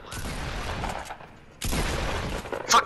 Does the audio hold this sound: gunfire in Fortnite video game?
yes